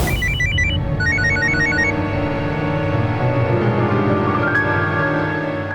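An electronic phone ringtone chimes in short repeating bursts over a sustained musical backdrop, fairly close and clear.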